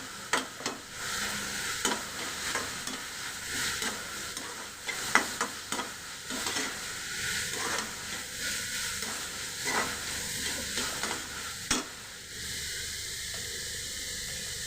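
Ginger-garlic paste, turmeric and spices sautéing and stirred in a pan for chapati noodles, a steady close sizzle with repeated scraping stir strokes throughout.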